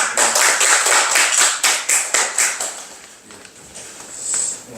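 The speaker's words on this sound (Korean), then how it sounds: "이 멀리서 글 보내주신 털털서 정승남님께 박수 한번" A gathering at a Won Buddhist debate forum claps for an absent contributor. The clapping falls into a near rhythmic run of loud, close claps that thins out halfway through, and a faint rustle follows.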